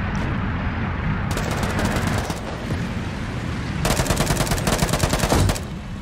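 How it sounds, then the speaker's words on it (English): Sustained gunfire from infantry at a radio tower in ARMA 3 Iron Front, dense rattling bursts over a constant loud rumble, with two faster, crisper machine-gun volleys standing out, no talk. "The infantry from the radio tower are shooting at us"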